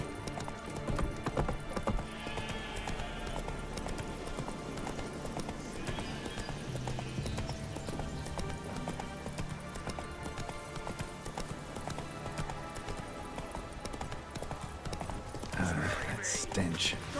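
A horse gallops in The Witcher 3 with steady, rhythmic hoof clip-clops and a brief whinny, set over game music and ambience while a voice speaks.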